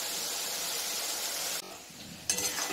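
Spice paste for a light rohu fish curry with potato and ridge gourd sizzles steadily in a hot pan, then the sizzle cuts out and resumes with scraping stirs and a brief clink of a utensil.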